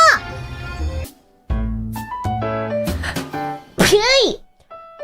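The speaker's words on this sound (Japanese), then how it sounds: "のはくしゃみじゃん" A sneeze from a VTuber, a Hololive member, bursting out among lively talk, with a sharp high sweep near the end of the clip and voices speaking around it.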